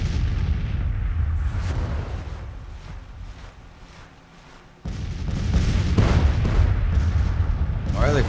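Continuous rumbling volleys and heavy booms from troops firing across a Civil War battlefield in Grand Tactician: The Civil War, dense and sustained, swelling louder in the second half.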